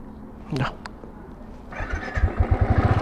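A motorcycle's faulty self-starter whirs briefly, then the engine catches and settles into a quick, rhythmic putter that grows steadier and louder.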